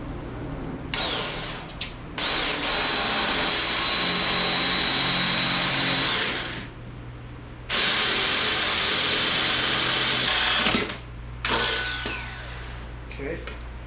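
Power drill enlarging bolt holes in metal for a scratch-built mini bike, whirring loudly and close in long sustained runs with brief stops and restarts.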